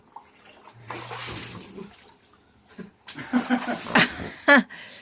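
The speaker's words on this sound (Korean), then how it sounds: "물 좀 뿌려주래. 물 뿌려줘." Water sprayed onto a backyard water slide for a young child, hissing in bursts that build toward the end, with a brief tonal hum early and loud splashy peaks near the finish.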